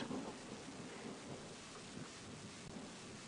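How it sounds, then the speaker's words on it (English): Thunder rumbling through a storm on a safari drive at sunset, a low broad roll under steady rain hiss, fairly faint and distant with no voices. "at the moment our elephant is listening to the sound of thunder"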